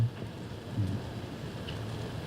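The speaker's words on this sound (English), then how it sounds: "rain coming down harder." Heavy rain pours steadily at an outdoor bass fishing tournament weigh-in, a dense continuous wash with a low rumble, holding at a constant level for the whole stretch.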